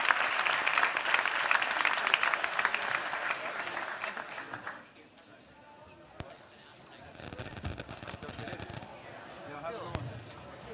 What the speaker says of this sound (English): please, a round of applause for our guest